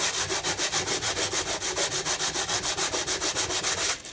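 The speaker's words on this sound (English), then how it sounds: "And wet this with the foil too. And you're just going to kind of sand it." Wet aluminum foil is rubbed hard against the chrome fender of a 1978 Honda CT70 motorcycle, making a close, loud, rhythmic scratchy scrubbing with fast back-and-forth strokes of about four per second.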